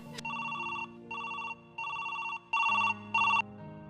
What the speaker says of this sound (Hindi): लो ये लो, बैल जा रही है।